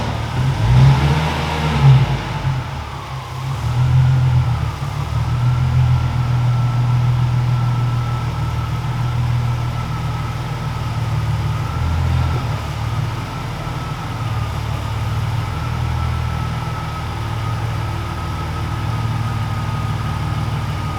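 A BMW E46 engine runs in a workshop while the car sits over a pit, giving a steady mid-low idle hum with a brief rev near the start, close and fairly loud, with no talking.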